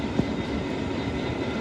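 A train approaches Jordanstown station, heard as a steady low rumble and rail noise of moderate loudness throughout, with no talking.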